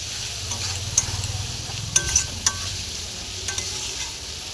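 Spice paste cooked down in oil in a pan, stirred with a utensil: a steady low sizzle with a few sharp scrapes and clinks near the middle, close and with no voices.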